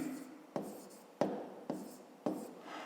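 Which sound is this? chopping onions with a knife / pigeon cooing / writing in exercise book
writing in exercise book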